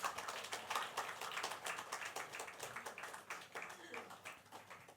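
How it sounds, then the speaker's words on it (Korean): A church congregation in a Sunday service claps to welcome a new pastor couple. The clapping is fairly faint and comes in steady, rhythmic beats that hold for several seconds. "박수로 맞이하겠습니다"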